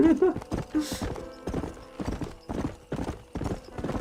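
Horse hooves clip-clopping in Red Dead Redemption, loud, close and evenly paced, with a brief whinny early on and a spoken voice at the start.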